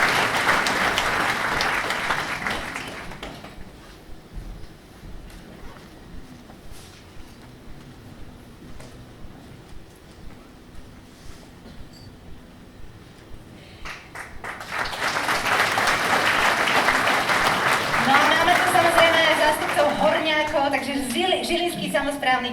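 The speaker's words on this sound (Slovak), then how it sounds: "Takisto ich prosím privítajme potleskom." Audience applause at a village-of-the-year award ceremony in Budmerice, Slovakia: a burst of clapping fades out, a quieter stretch with faint sparse claps follows, then a loud sustained round of applause swells back with voices mixed in.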